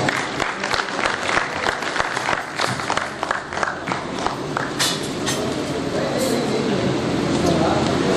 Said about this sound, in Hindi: तालियों से इस्तकबाल कीजिए